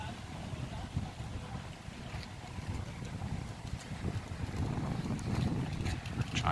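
Breezy wind gusting across a microphone on a seaside promenade in Tenerife, buffeting in uneven low rumbles that swell louder toward the end, with faint outdoor background activity.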